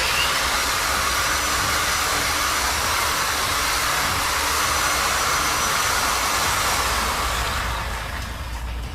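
A variable-speed polisher spins a cleaned pad dry with a loud, steady whirring roar that holds constant and tapers slightly at the end, with no voices over it.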